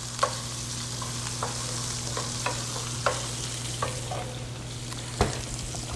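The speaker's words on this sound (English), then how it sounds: "Then I'm gonna hit it up with some crushed garlic. Stir, stir, stir." Crushed garlic sizzles steadily in a hot pan for shrimp scampi with maitake mushrooms, with a low hum beneath and scattered sharp clicks and scrapes as it is stirred, no voices.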